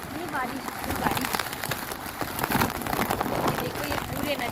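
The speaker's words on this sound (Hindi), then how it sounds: "इतनी तेज बारिश हो रही है" Heavy rain pours down near swollen, flooded streams in Amravati district, a dense continuous hiss and splatter with a rushing water roar, while someone speaks over it.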